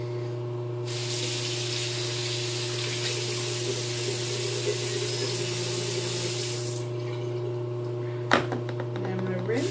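Water runs steadily from a faucet into a sink while someone rinses their face after cleansing, a constant hiss that stops abruptly, followed by a short clatter.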